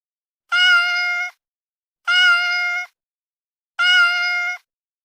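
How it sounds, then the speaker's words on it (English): Three separate, evenly spaced cat meows, each a clear sustained tonal call of under a second, close and loud with silence in between. "Cat."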